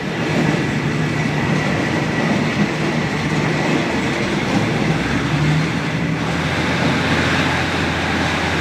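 Continuous rumble and clatter of a passenger train on Thailand's Maeklong line between Wongwian Yai and Mahachai rolling along the tracks, steady and fairly loud from inside the carriage.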